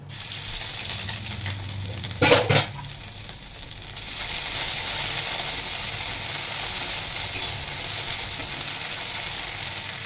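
Ginger added to a hot frying pan, a sharp burst of stirring and scraping against the metal, followed by a continuous sizzle and hiss that fills the rest of the time.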